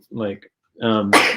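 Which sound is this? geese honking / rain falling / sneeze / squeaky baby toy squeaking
sneeze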